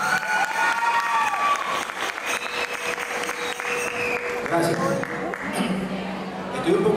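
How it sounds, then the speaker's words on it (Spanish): An audience applauds steadily and fairly loudly as a singer-songwriter is introduced, with scattered cheers, whistles and crowd chatter mixed in. "Un fuerte aplauso para este gran año."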